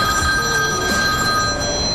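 A telephone bell rings steadily and fairly loudly, a continuous electronic trill held for a couple of seconds over a soft background hiss.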